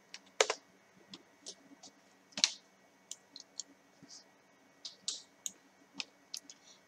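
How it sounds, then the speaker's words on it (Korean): A computer mouse clicks repeatedly during a basic computer lesson. The sharp, close clicks come in irregular bursts of single and double taps over several seconds against a quiet background. "클릭 또는 엔터 해줄게요."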